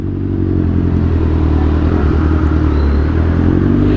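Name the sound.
motorcycle riding through a quiet town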